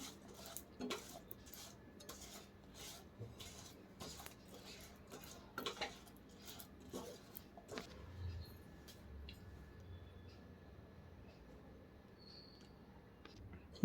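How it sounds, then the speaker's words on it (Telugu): Makhana candy with jaggery and sesame seeds is stirred in a pan, a spoon clinking and scraping against metal in quick, irregular strokes, close but quiet, with no talking. "ఒకసారి మిక్స్ చేసుకుందాం."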